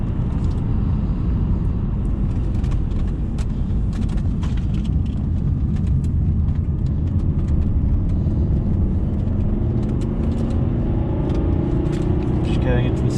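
A P3 Volvo engine drones steadily while driving, a constant low rumble with road noise and a slight rise in pitch near the end.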